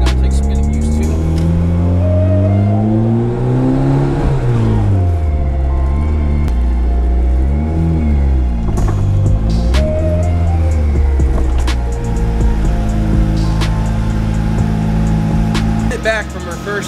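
A car engine with a new clutch revs hard on a first test drive, rising and falling through repeated loud, close surges, then settling into a steady drone, with no talking.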